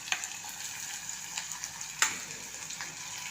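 Chilli, capsicum, peas and pigeon peas fry with tomato in a pot for vegetable rice, a steady close sizzle broken by small stirring clicks.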